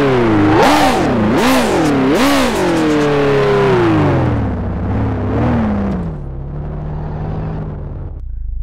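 A modified pickup truck engine, fitted with a blow-off valve, revs hard in three loud rising surges, then winds down into a lower rumble and settles to a steady idle, close and alone with no talk.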